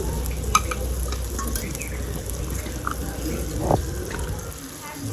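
Chopped tomato with salt, a little sugar and turmeric fries in a pan and is stirred, a continuous sizzle broken by scraping and an occasional sharp clink of the spoon against the metal.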